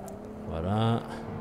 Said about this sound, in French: On accélère. Là, on appuie sur la pédale.